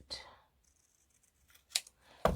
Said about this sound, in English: So all we do is just cut this down a bit.